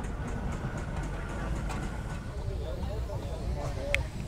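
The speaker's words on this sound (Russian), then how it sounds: "Показывают, как паровой двигатель устроен у этого паровозика маленького." A small steam locomotive engine runs at the Stradbally steam rally in Ireland, a steady rumbling, clattering chug with a faint squeal near the end, heard under people talking.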